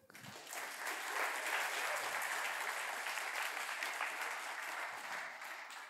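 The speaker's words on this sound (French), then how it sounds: "Applaudissez-le." Conference audience applause for a speaker, a steady, even patter of many hands clapping, fairly faint and sustained throughout before tapering slightly at the end.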